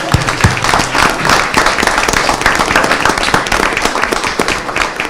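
A city council meeting audience claps for Arbor Day supporters, a loud, busy round of applause with sharp individual claps close by, sustained throughout.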